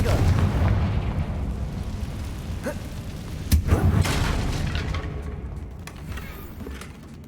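Confringo blast spells explode in the Hogwarts Legacy video game as deep, rumbling booms over a dense, continuous roar, with a couple of sharper cracks standing out midway before the din slowly fades.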